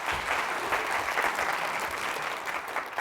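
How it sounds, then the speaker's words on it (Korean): Lecture audience breaking into a brief, dense round of applause, many hands clapping at a steady level with no talk. "박수 한번 쳐주셔야 되는 거 아니에요?"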